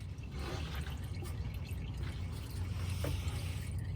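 Engine oil drains from a Porsche Cayman into a pan, a faint continuous trickle with occasional drips, close by and alone.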